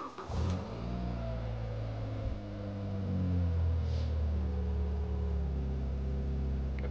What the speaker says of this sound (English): So we start the car.